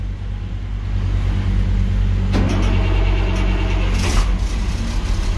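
A rail truck's engine running after a cold start, a loud, close, steady low rumble with a few brief clanks and a hissing burst near the end.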